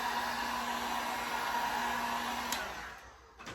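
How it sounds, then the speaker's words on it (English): A heat gun blows steadily while drying paint on kitchen decor, a close, even rushing whir that cuts off near the end and leaves quiet room noise. "So I'm just hitting it again with a heat gun just to get it dried so I can continue and put another coat on it."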